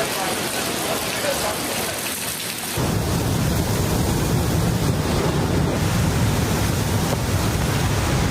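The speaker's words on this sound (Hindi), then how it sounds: "रावलपिंडी, इस्लामाबाद में तूफानी बारिश।" Stormy, heavy rain with thunder in Rawalpindi and Islamabad roars loudly and continuously. A quieter stretch gives way to a sudden surge of dense downpour with deep rumbling underneath.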